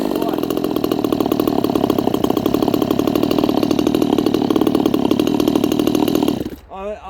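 Red Nut 58cc Chinese chainsaw engine idling steadily with a rough, buzzy pulse, loud and close throughout, then cutting out abruptly near the end.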